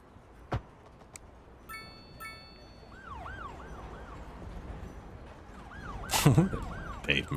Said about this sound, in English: You can hear the sirens, right?